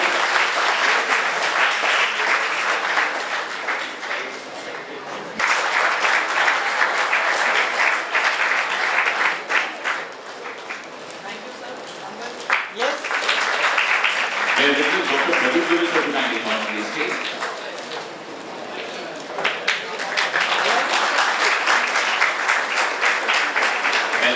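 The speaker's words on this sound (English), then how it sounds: "Let's welcome one more time with thundering round of applause, Lieutenant Colonel Amrita Singh." Loud, sustained applause from a large audience at a college hackathon event welcoming a guest, continuous clapping over about twenty-four seconds with brief dips in intensity.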